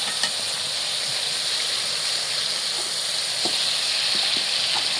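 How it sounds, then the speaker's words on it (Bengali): Turmeric, chili and salt sizzle in a pan as they fry, a steady close hiss with faint stirring clicks scattered through, no talk. "সব মশলা দিয়ে মশলাটা ভালো মতো কষা নিচ্ছি"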